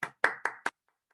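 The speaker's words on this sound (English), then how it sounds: "Let's give them a round of applause." Four sharp hand claps ring out close and fairly quiet at an evening International Women's Day community gathering honouring presenters, followed by near silence.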